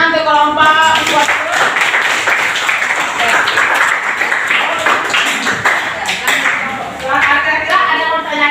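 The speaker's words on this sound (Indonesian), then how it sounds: "tepuk tangan untuk kelompok iswari" Classroom applause for a student group after a math presentation, a loud close burst of clapping with excited voices and cheering rising through it and at the end.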